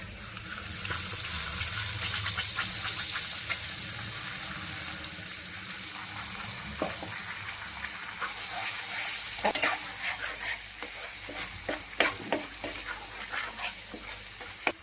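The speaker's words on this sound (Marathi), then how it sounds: "आता याला तेलात आपण मिक्स करून घेऊ. आता हे वाटण वाटेले ना, हे पण त्याच्यात टाकून घेऊ." Ground black masala paste stirred into hot oil for a rustic village-style drumstick curry: a steady, close frying sizzle runs throughout, broken by scattered scraping and clicking stirs that pick up toward the end.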